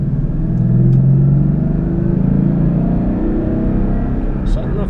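A 2012 Ford Mustang GT 5.0 V8 rumbles low and steady while driving, a smooth droning engine tone heard from inside the car, with someone talking over it.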